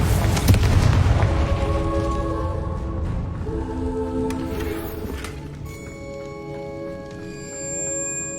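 The Confringo fire spell goes off in the Hogwarts Legacy video game with a loud booming burst, then a ringing, tonal magical tail that slowly fades over several seconds.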